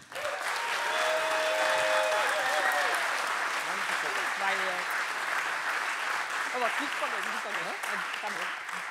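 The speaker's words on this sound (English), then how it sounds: "I want you to give them a really, really loud applause" Loud, sustained audience applause at a design talks event greets a textile designer, with dense clapping filling the room and a few voices calling out beneath it.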